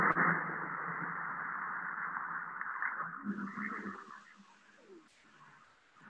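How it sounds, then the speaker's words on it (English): A recorded call of a migrating bowhead whale, heard as a drawn-out tonal moan with hiss and shifting, radio-like noise, played back faintly over several seconds. "So that is the sound of a migrating bowhead whale."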